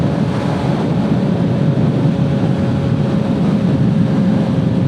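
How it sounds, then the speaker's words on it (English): Steady roaring wind blast buffets the microphone while riding a Triumph Speed Triple motorcycle behind a small cowl, a loud continuous broadband rush with no pauses. "even with that little cowl you still get a hell of a lot of wind blast"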